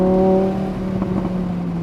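Lamborghini Huracan V10 with a race exhaust holds a loud, steady engine drone with strong low harmonics, then a brief burst of crackling pops as it downshifts, the engine note staying close and dominant throughout.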